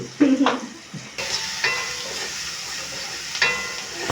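Onions frying on a low flame sizzle softly in a pan, with a couple of brief stirring scrapes early and gentle hissing that swells in short bursts.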